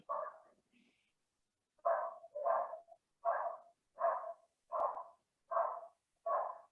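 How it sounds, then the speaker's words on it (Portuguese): A dog barks repeatedly in the distance, eight or so evenly spaced rounded barks after a brief pause, faint but clear with nothing else audible between them. "Tem um cachorro latindo."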